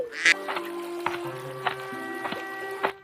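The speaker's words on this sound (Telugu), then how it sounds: "అక్కడ దానికి ఒక బాతు కనిపించింది" A cartoon duck quacks in a short run of distinct calls, several spaced quacks standing out clearly over a quiet background music bed.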